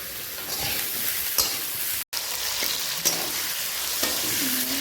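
Potato pieces fry in hot oil in a pan with a dense, continuous close sizzle and crackle, with occasional soft stirring scrapes and a momentary dropout partway through, no talk.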